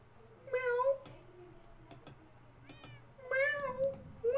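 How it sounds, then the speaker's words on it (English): Two drawn-out cat meows from a taunt in a Minecraft hide-and-seek game, one early and one near the end, clear and close over a quiet background. "Let's meow a couple times."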